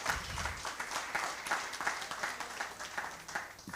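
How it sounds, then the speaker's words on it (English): A small audience at a managing director's talk on strategic thinking claps for several seconds, the sound uneven and fairly quiet, as if coming from a modest-sized room. "We could give a round of applause."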